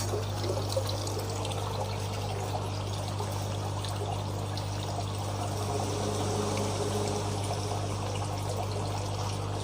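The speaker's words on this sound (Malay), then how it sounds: "Okay, sekarang kita uji pump." Small water pump switched on in a DIY 18-hole hydroponic system, with water pouring and trickling steadily through the pipes alongside a constant low motor hum, close and continuous throughout.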